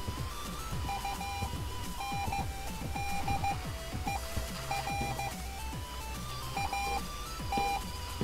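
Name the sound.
beeping noise from a radio tower in the video game Dusty Trip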